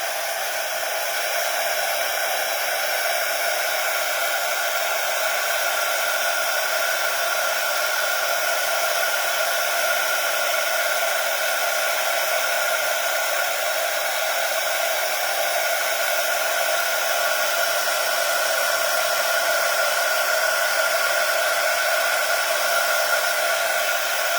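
A preheating heat gun for stamp embossing blows hot air in a steady, loud, unbroken hiss and whir that holds without change, with no voices over it.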